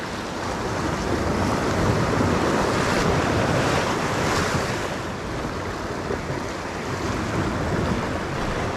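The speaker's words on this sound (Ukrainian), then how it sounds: "Море сьогодні більш-менш таке, ну вітру немає, але бачите, трохи штормить. Ну, Хвиля така немаленька." Rough sea off the coast of Spain churns in a steady, loud roar of surf and rushing water, with wind buffeting the microphone throughout and no voices.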